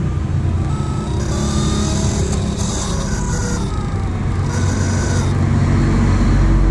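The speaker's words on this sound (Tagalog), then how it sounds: "So pag nilakas po yung RPM, ayan, okay na siya." A Nissan Sentra engine, under ECU and distributor testing, runs loudly and close with a steady low drone and rising RPM, its pitch climbing as it revs up, with no talking.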